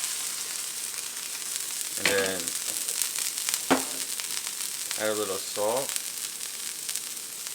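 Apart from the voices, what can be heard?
smash burger patty sizzling on the griddle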